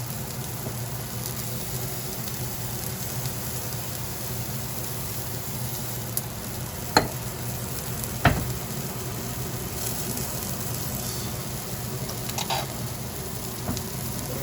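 An egg sizzling in an oiled pan for loco moco, a steady close crackling fry throughout with a couple of sharp pops and clinks from the pan.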